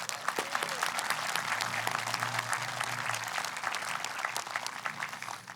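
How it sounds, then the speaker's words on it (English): An audience at a school graduation and promotion ceremony applauds students, dense sustained clapping from many hands at a steady level for several seconds, with a low hum underneath. "Round of applause for these students."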